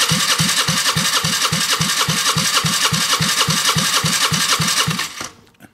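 Hexagon 125 scooter engine cranked over with the starter during a compression test, a fast, even, rhythmic chugging of compression strokes, loud and close, running steadily before abruptly stopping near the end.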